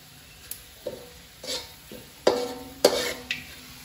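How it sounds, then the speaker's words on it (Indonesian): Shallots fry in a pan with a soft, continuous sizzle. About six sharp scraping stir strokes come at irregular intervals, each one heard close and briefly louder than the sizzle. "Nah, ini goreng bawangnya"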